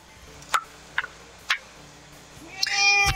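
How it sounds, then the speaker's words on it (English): A house cat sitting on a lap gives several short, close meows in a quiet room, followed by a brief rustle near the end. "And I have a cat on my lap now"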